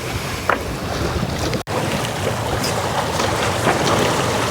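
A Swan 51 sailing yacht, a Frers design, glides under sail in very light late-afternoon wind, with steady broadband water wash and soft wind rush throughout, broken by one brief dropout, no voices.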